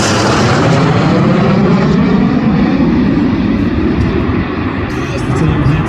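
Red Arrows jets arriving at high speed for a precision flying display at an air festival, a loud, steady broadband roar that holds for the whole stretch with no pause.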